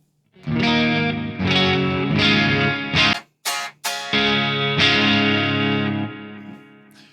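An electric guitar plays chords and single notes through a slightly crunchy, gritty 5150-style clean amp tone in the ML Sound Lab Amped Block Letter, with a couple of brief pauses and a ringing fade.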